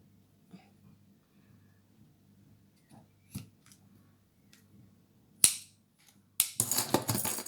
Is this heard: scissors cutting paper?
yes